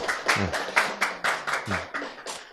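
An audience claps in a steady, rhythmic beat during a church lecture, sharp hand strikes falling about four per second at moderate volume, with a voice briefly showing through.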